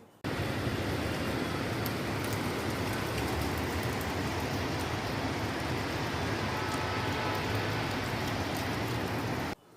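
Steady rain falls outside on a rainy day, a dense, unbroken hiss spread evenly across nearly ten seconds with no voices over it.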